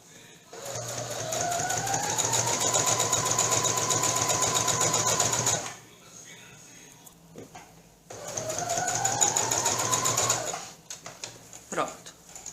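A domestic sewing machine stitches a narrow seam all the way around a fabric jewelry and makeup holder, whirring steadily in two long bursts with a pause between, close and clear.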